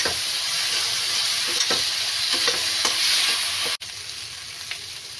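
Spice paste with ground red chillies frying in a pan for a Bengali potol curry, a continuous close sizzle broken by repeated scraping stirs, then a short gap and a quieter hiss afterwards.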